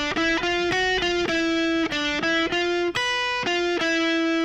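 Distorted electric guitar playing a solo lick, a fast run of string-skipped picked notes in a steady repeating pattern, loud and close with no talk.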